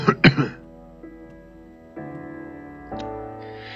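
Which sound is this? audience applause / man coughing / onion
man coughing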